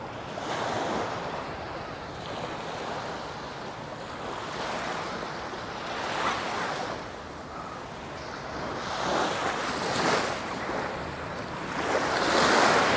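Steady roar of surf with waves swelling and breaking in repeated surges at a beach in Japan, backed by gusty wind noise, no voices.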